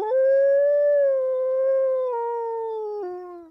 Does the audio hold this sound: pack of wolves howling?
yes